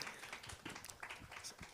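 Audience clapping at a university communication week event, scattered individual claps with uneven rhythm, fairly faint and thin rather than a full ovation.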